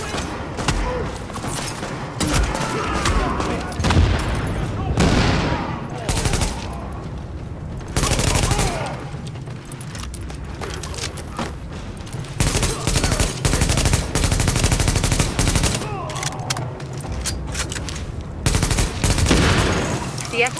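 In the video game Tom Clancy's The Division, heavy automatic gunfire pours down from a rooftop, with long loud bursts and dense overlapping shots, a few short gaps and muffled booms, and faint voices mixed in.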